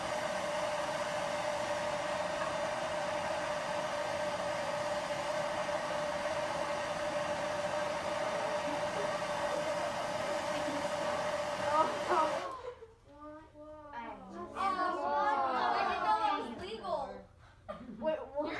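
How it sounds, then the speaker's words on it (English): Acetylene torch heating a penny in a classroom demonstration, giving a steady loud roaring hiss for about twelve seconds before it cuts off, followed by children talking and laughing. "We're going to apply heat to our penny."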